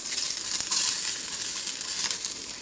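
Egg and onion frying in hot oil in a pan, a steady loud sizzle running throughout with no talking.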